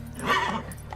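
A horse in the Witcher 3 video game gives a short, close snort or whinny that swells and fades within a second.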